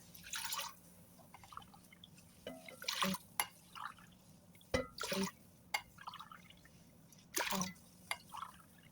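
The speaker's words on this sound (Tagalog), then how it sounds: "At sa isang kaserola, maglalagay tayo ng 6 na basong tubig." Cold water from six glasses poured into a casserole pot for jelly leche flan, heard as faint intermittent splashes and drips in bursts over a low steady hum, with a brief spoken exclamation.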